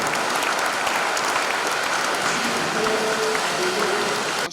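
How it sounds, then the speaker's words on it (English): Audience applause at a jersey unveiling event, dense sustained clapping from a crowd, loud and continuous for the whole stretch. "Please, a big round of applause."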